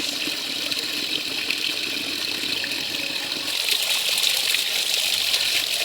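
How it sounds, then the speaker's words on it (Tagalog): Forceful water flow pours continuously in a loud, close rushing hiss that swells slightly louder toward the end, with nobody speaking. "Ang lakas ng tubig, guys."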